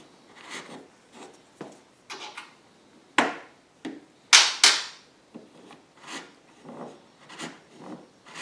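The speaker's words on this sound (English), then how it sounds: "I'm going to take a repairman's reamer and do the last little bit by hand" A hand reamer scrapes and rasps against metal, enlarging a hole in short, irregular strokes with sharp clicks between, close up and fairly quiet, no talking.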